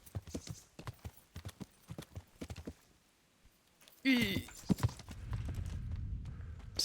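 Horse hooves clip-clop in the Kingdom Come: Deliverance game, a run of quick, evenly spaced steps, then a louder jumble of movement and rumble, close by with brief speech.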